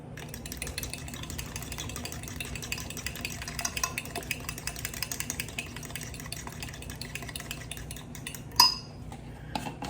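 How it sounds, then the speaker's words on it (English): Eggs being whisked in a bowl with quick, continuous tapping and scraping strokes, fairly quiet and close, ending with a sharp clink of the utensil against the bowl. "Make sure you get those yolks broken up really good."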